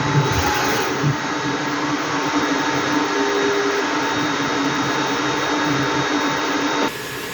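A Creality K2 Plus 3D printer running a four-colour print job, a loud continuous whirring hum of fans and moving motors with faint tonal whines, steady throughout until a slight drop at the end.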